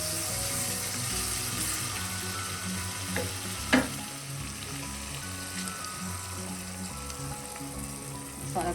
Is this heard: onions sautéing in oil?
yes